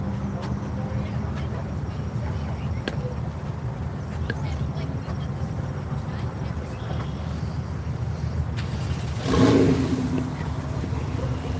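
A Porsche race car at NCM Motorsports Park passes on the track, a steady engine drone with a brief louder swell near the end, mixed with wind noise and no clear voices.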